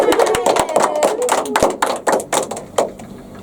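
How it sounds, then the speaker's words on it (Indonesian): A classroom group clapping their hands during a microteaching lesson, a close burst of sharp, uneven claps that thins out into a few scattered final claps. "tepuk tangan dulu untuk kita semuanya"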